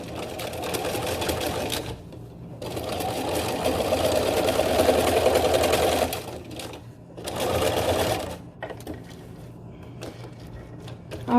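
A sewing machine stitches a garment seam during a crotch alteration, running in two steady bursts of whirring with a brief pause between, then dropping to a quieter hum; no talking.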